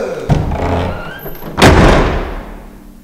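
Two loud door bangs, a sharp thud early on and a heavier slam about a second later, each followed by a decaying reverberant tail in an indoor space.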